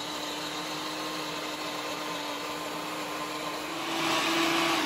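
A food processor whirs steadily as it chops sun-dried tomato meze with lemon, a constant motor hum that swells slightly louder near the end, with no talking.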